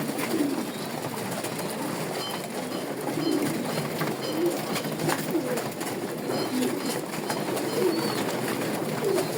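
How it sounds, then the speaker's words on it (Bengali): A flock of pigeons cooing around city buildings, soft repeated low coos from several birds close by over a continuous hiss of background noise. "বহুত এখানে কবুতর আছে"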